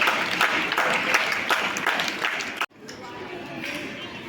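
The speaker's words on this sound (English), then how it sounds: "I request all of you to give a big clap on the occasion of Foundation Day" An audience at a school Foundation Day event claps together in a dense, even roar of hands with a few talking voices mixed in. It cuts off abruptly, and a quieter murmur of crowd noise follows.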